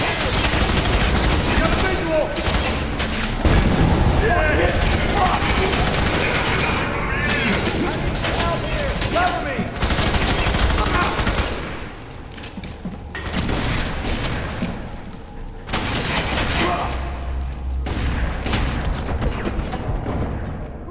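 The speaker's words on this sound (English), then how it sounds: "Suppressed! Covering fire! Covering fire!" Heavy gunfire in the FEAR 3 video game: a dense, sustained barrage of automatic fire and booms that barely lets up, with brief lulls, and shouted voices over the battle.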